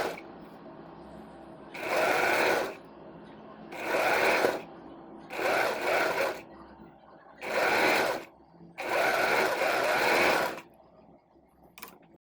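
Five loud, evenly spaced bursts of a sewing machine stitching a strip onto a kurti, each about a second long with quiet pauses between, and a faint click at the end.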